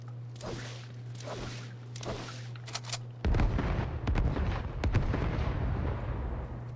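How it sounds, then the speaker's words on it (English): Grenades in Fortnite go off as a sharp crack, then a loud, rumbling burst of blasts that keeps churning for several seconds, after a few quieter thuds and pops at the start. "I can actually use grenades this time"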